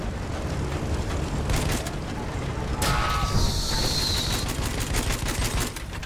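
A grenade detonates mid-battle in Battlefield 1 multiplayer: a sudden loud burst that rumbles and rings out over ongoing distant gunfire and clatter.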